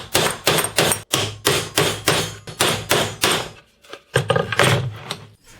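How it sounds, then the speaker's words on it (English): Bolts are hammered into plywood to mount a vise on a workbench: a rapid series of loud, close metallic-wooden strikes in regular bursts, with a brief pause before several more blows. "I hammer the bolts into the ply"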